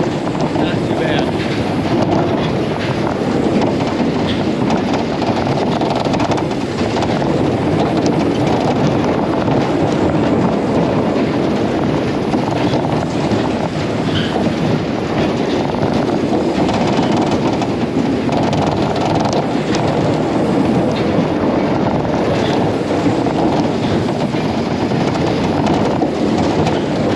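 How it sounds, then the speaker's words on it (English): Tilt-a-Whirl fairground ride running at a state fair: a loud, continuous mechanical rumble and clatter with wind buffeting, steady throughout with no clear speech. "58 minutes straight on the Tilt-a-Whirl."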